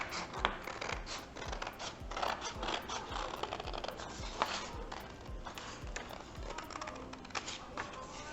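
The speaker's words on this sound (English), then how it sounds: "you're gonna cut along the line that you just drew." Scissors snip steadily through paper while cutting out a fish kite shape, a run of close, crisp cuts and rustles repeating at an even pace for several seconds, with no talking.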